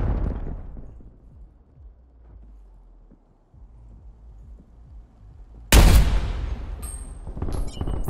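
A flashbang grenade goes off in Call of Duty: Black Ops Cold War, a sudden loud full-band blast that cuts through quiet game ambience and then trails into a harsh ringing tail with high whines.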